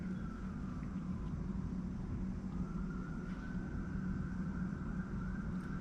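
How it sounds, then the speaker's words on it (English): A fire truck drives by outside a city building in San Francisco, heard as a steady, loud low rumble of traffic with a faint rising and falling tone running through, continuous throughout without talk. "There's like a fire truck driving by right now."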